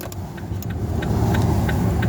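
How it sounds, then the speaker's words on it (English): A large bus idles and rumbles in traffic, a steady low engine drone that swells slightly toward the end, with faint road noise around it. "get that big old bus out of the way"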